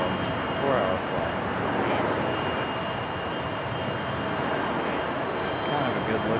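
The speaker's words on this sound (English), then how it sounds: "It's kind of a good look at Aero Mexico there, making that turn into the gate" An Aeromexico Embraer E190 jet taxis into the gate at Raleigh-Durham airport after landing from Mexico City, its steady engine whine and broadband rumble continuous and fairly close, with a voice talking over it.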